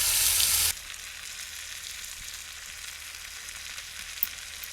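Bacon sizzles and fries in a cast iron pan over a campfire, a steady close hiss with a louder burst at the start, then an even crackle with one small pop near the end.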